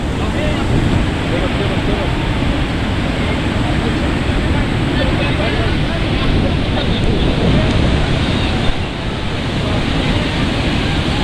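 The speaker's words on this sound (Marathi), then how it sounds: "कसली लाट एकदम खवलला आहे समुद्र" Rough monsoon sea waves pound Mandvi beach in Ratnagiri, a loud, unbroken roar of surf mixed with wind buffeting the microphone, with a voice talking faintly underneath.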